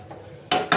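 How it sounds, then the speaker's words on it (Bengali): A metal kadai being washed gives two quick clattering clanks of cookware after a soft, quiet lead-in. "ততক্ষণ আমি কড়াইটা ধুয়ে নেব।"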